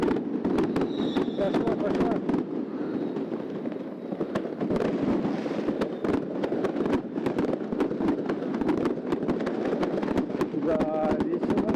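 Fireworks going off on New Year's night in Yakutsk: a dense, irregular stream of sharp bangs and crackling bursts, some near and some farther off, runs continuously while people talk over them.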